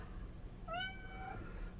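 A house cat gives a single clear, mid-length meow, rising then trailing off, close by in a quiet room.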